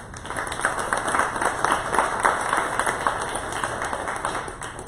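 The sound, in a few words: audience applause for organizers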